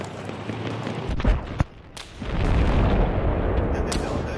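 Gunfire and booming explosions in the video game Battlefield 3, with a few sharp close shots early on and then a loud sustained rumble of distant battle.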